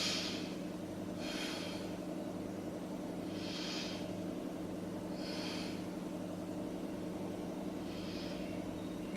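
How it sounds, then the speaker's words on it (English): During a beginner yoga session, a person takes slow, deep breaths, five soft airy inhales and exhales spaced a couple of seconds apart over a steady low hum. "just close your eyes and let's take 3 breaths here"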